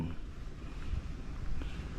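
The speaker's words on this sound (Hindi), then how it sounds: "यहाँ पर उस पर चारों तरफ से पानी बरसाया जाता है, ताकि कोई भी लीकेज किसी भी चीज़ का पता चल चले।" Water is showered from all sides onto a railway passenger coach during a rain leak test at the Carriage Factory in Islamabad, a steady rushing hiss with a low rumble underneath.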